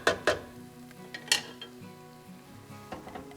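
Chopped mushrooms drop into melted butter in a pan for a mushroom gravy, a couple of close clinks and scrapes of a utensil followed by a soft, quiet sizzle, no talk.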